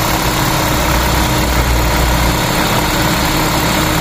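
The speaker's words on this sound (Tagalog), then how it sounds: "Aircon, compressor na po yan." A 9th-generation Toyota Corolla Altis engine idles with the air-conditioning compressor running, giving a close, steady hum and a dense whirring drone that holds unchanged throughout, with no voices.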